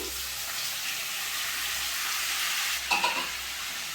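Onion paste frying in oil in a kadai for paneer methi curry, a steady, dense close sizzle with a brief stirring scrape near the end and no talking.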